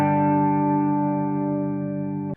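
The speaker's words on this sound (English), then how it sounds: "Now I've got some distortion on here," Electric guitar with distortion engaged, a single sustained chord ringing with dense, gritty harmonics for about two seconds before being cut off abruptly, played alone and loud.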